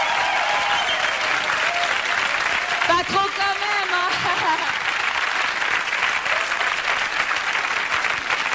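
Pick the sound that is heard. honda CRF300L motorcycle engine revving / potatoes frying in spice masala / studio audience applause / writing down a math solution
studio audience applause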